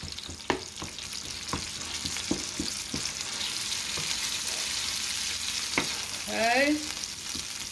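Ground beef sizzles and fries in a pan with onions and minced garlic, a steady crackling hiss broken by a few sharp stirring knocks and scrapes, with one brief spoken word.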